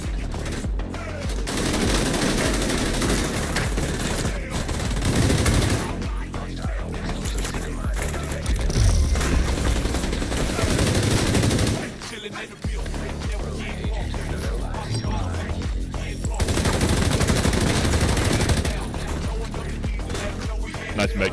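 Dense automatic gunfire shooting through a wall in Division 2 Dark Zone PvP, with rapid sustained bursts that fill nearly the whole stretch, pause briefly near the middle, then resume at close, loud range.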